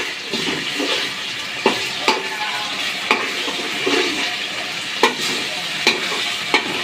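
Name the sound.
bay leaves and chilies frying and being stirred in oil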